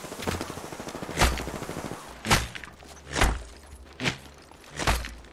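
Apex Legends gunfire crackles in bursts: rapid weapon fire opens the scene, then five heavy, punchy shots or impacts land at roughly one-second intervals, close and loud.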